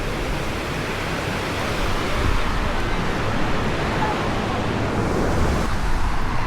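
Ocean waves breaking on the beach at Pangandaran, a continuous loud wash of surf with a slight swell in the middle, no voices over it.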